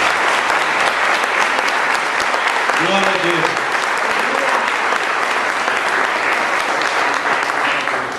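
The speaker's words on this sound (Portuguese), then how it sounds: "Então aplauda o Senhor bem forte" Church congregation applauding loudly and steadily throughout at a Maanaim church service, a dense continuous roar of clapping with a voice briefly calling out over it.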